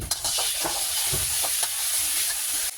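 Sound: garlic and bean paste frying in oil

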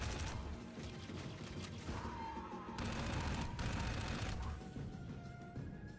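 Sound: gunfire shooting at player in Dark Void video game

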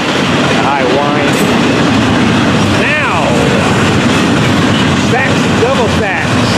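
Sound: double-stack freight train locomotive passing, turbo engine

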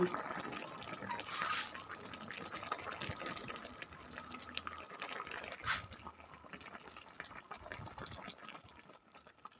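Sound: pouring water into Thai sand fish jungle curry

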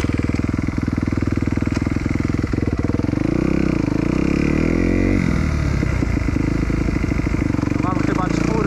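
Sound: Kawasaki dirt bike engine running when warm

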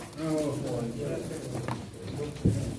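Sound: pigeon cooing at a pigeon auction

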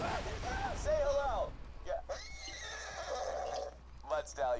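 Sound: horse neighing in video game Borderlands 2

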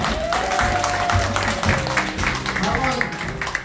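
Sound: audience applause

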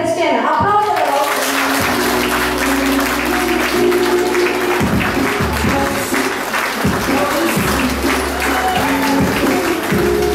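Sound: audience applause at graduation ceremony

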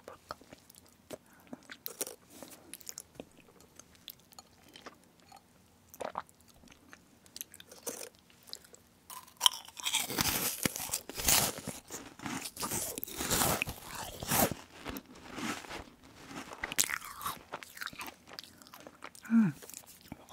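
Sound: crunching and chewing a meringue cookie without chocolate

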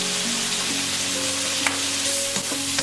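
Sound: stir-frying cabbage and egg, sizzling

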